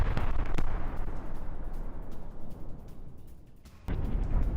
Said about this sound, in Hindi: खान यूनिस में ये टैंक से अटैक किया गया